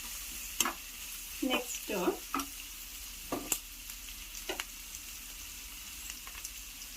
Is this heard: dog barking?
no